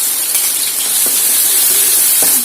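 Onions hitting hot oil in a wok, a loud, steady sizzle and hiss that stays close and continuous throughout.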